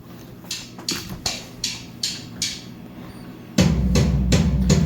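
A sparse drum pattern with sharp hits at an even pulse, getting fuller and louder near the end as deeper drums join in.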